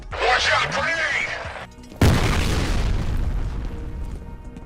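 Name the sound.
grenade explosion and gunfire in the video game F.E.A.R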